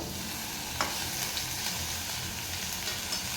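Boi fish and tomato sizzle in a spicy Kashmiri masala fish curry, a steady close crackling fry with a faint stir or clink, no talking.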